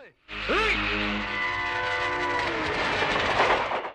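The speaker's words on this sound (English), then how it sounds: "Notice the sound of a train running in the background?" A train rumbles past with a long horn blast sounding over the rolling noise, fairly loud and continuous throughout.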